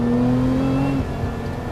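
A 2023 Lotus Emira engine is held at a steady high rev close by, then falls away sharply about a second in and settles to a lower idle-like hum. No one talks over it.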